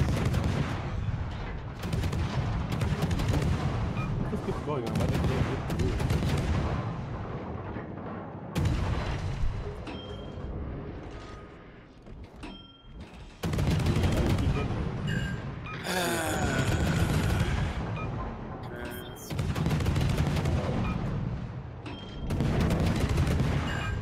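Warship guns firing in a naval video game: repeated loud booming salvos and rattling volleys with brief quiet gaps between them, with a voice talking in stretches.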